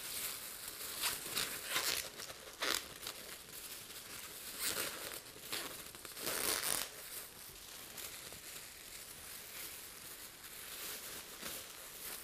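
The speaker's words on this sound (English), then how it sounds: "First thing I'm going to do is I'm going to put some gloves on." Disposable gloves are pulled on for an ink cartridge refill, a quiet, irregular crinkling and rustling of thin material heard close up, with brief louder crackles throughout and no speech.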